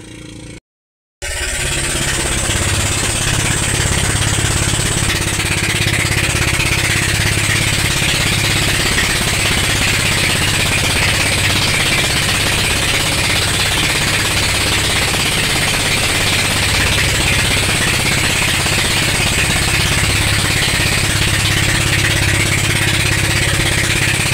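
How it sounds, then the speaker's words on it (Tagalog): A fishing boat's motor on a trip out to set a payaw fish aggregating device, starting after a brief silence and then running steadily, loud and continuous with a low rumbling drone and no talk. "Tayo naman yung magpapaanda ng makina."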